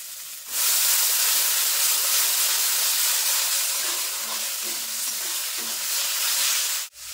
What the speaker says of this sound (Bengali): তো দেখো মশলাগুলো কিন্তু খুব ভালো করে ভাজিয়ে নিয়েছি, আর একটু টমেটোটা গলে গিয়েছে।